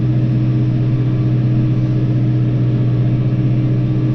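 Tractor pulling a chisel plough through a potato field, a continuous loud, even engine drone with a steady low hum and no pauses.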